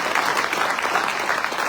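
Steady audience applause at a business panel discussion, a continuous wash of many hands clapping at even loudness with no talk on top.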